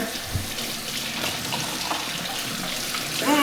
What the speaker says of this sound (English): you're gonna wash your chicken with some soap and water